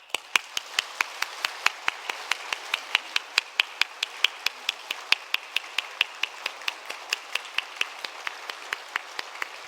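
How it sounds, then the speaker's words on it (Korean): A church congregation at a Sunday service claps in blessing and encouragement, a long run of steady, evenly spaced beats sounding as one rhythmic clap, fairly loud and with no talk over it. "축복과 격려의 박수 해주시면 감사하겠습니다"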